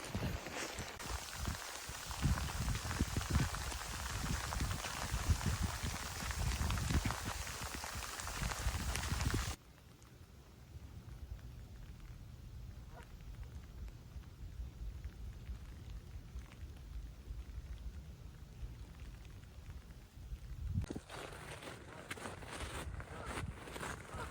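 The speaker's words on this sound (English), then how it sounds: "It is pouring." Heavy rain pours down on a beach, a dense roaring wash that abruptly drops to a quieter patter midway and then swells again near the end.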